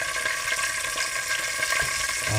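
Curry leaves fry in hot tempering oil for a raw papaya dish, a dense, even hiss of sizzling that stays close and continuous throughout without voices.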